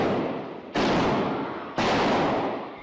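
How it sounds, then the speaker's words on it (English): Gunshots fired by a gunman inside a Texas church during a Sunday morning service: two loud, sharp blasts about a second apart, each trailing off in a long echoing decay through the room. "The gunshots sparking panic in the pews."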